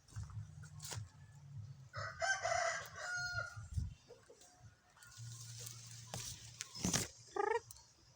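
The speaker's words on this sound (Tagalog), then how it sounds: "Yan yung mga alagang manok." Pet chickens cluck and a rooster crows in several bursts, close and fairly clear over a quiet background, with short gaps between calls.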